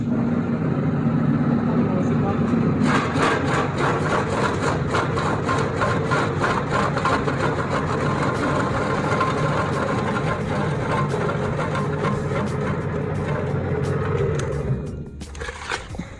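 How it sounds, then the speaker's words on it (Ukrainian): An industrial dicing machine cutting onion into cubes runs with a loud, steady mechanical whir and rapid rhythmic chopping for about twelve seconds before winding down near the end. "зараз ми поріжемо кубики цибулю"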